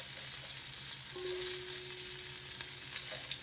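Food sizzles and caramelizes in a frying pan, a steady close crackling hiss with occasional stirring clicks.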